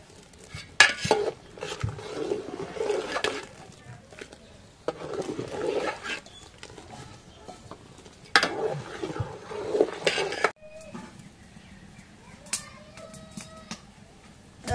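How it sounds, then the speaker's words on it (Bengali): Coconut stirred into boiling sweetened milk in a pot for milk pitha, with repeated scraping and clinking of a spoon against the pot in uneven bursts, then a calmer bubbling stretch near the end. "এখন নারকেল দিই, দুধের মধ্যে নারকেল দিই।"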